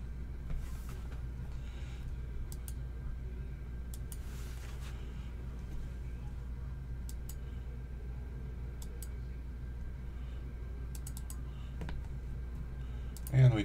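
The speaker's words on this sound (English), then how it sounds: "we're going to click on Upload New File." Computer mouse clicks sound as a few sharp, faint taps spread over a quiet background hum, while a voice talks throughout.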